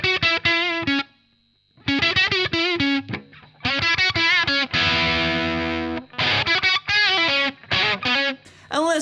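Electric guitar through a Valeton Loft Series DS-10 distortion pedal, a modded Boss DS-1 style, playing loud close chopped chords and a sustained strummed chord between short gaps, bright and saturated.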